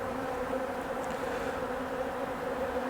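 Honey bees from a recently split colony buzz around a camera at an open hive during an inspection, a steady, close, continuous drone of wings with no talk.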